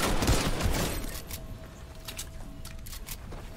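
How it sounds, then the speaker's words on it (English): Rapid video game gunfire crackles in a dense burst at the start, then thins to scattered faint shots and distant pops. "Stop picking up the guns and shooting me!"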